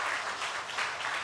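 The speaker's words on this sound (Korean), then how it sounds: "우리 박수로 환영하겠습니다." A church congregation at a Sunday worship service claps to welcome a newly registered member, giving a short burst of dense, steady applause.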